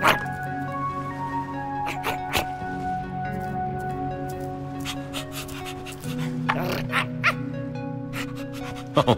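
Dog in Minecraft: Story Mode letting out short yips and barks with panting between them, light and moderately close, over a soft game music bed.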